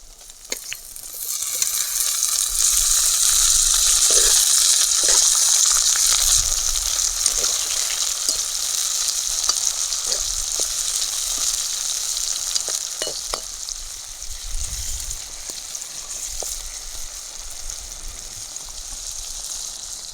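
Tomato pieces fry in a hot pan with curry leaves for an egg and drumstick curry, giving a steady loud sizzle that slowly fades, with occasional stirring clicks and no talking.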